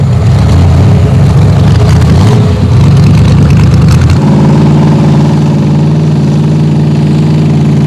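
A 3.5-litre V8 engine fitted to a monowheel motorcycle runs loud and close, rough and revving at first, then settling into a steady throbbing idle.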